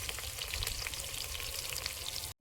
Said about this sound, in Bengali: ফোড়ন ভাজা হয়ে গেছে,